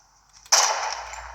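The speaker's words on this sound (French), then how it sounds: "j'attends qu'il bouge plus et je lui tire dessus." A single sharp gunshot from a weapon in the video game Fortnite cracks out loud and close after a brief quiet lead-in, followed by a decaying ring and tail.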